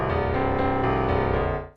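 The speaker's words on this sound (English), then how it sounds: "what ring modulation does is it creates these kind of bell-like complex sounds" A ring modulator effect in Cubase turns a sustained tone into a dense, metallic, bell-like complex sound with many inharmonic partials. It holds steady and loud for close to two seconds, then fades at the end.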